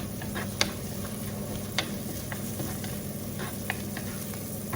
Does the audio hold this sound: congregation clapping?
no